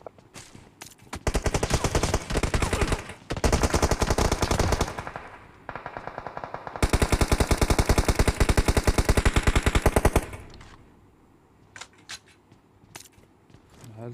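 Rapid bursts of automatic gunfire from the mobile battle-royale game PUBG Mobile. The shooting is loud and close, comes in long, fast strings broken by short gaps, and fades to quieter scattered shots at the end.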